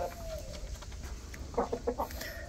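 Hens and a rooster in a backyard chicken coop, clucking in short bursts against a steady background hiss, fairly faint and distant with no one speaking.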